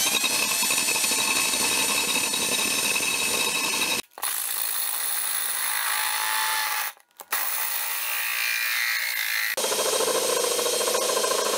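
A loud, grinding power drill runs steadily while drilling into a glass wine bottle, cutting out briefly twice and changing pitch as it bites into the hard glass.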